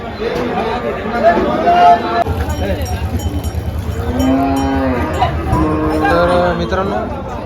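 Holstein Friesian cows moo repeatedly at a busy cattle market, with drawn-out lowing calls rising over constant crowd chatter, voices and a steady low rumble.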